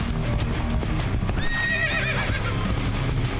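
Rapid hoofbeats clip-clop steadily while a horse neighs partway through, with a busy game-like backdrop running underneath.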